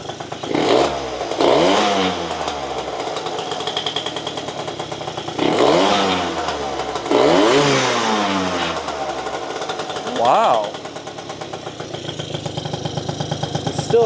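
A rare 50cc scooter engine revs hard several times over a steady buzzing idle, each rev climbing and falling, loud and close.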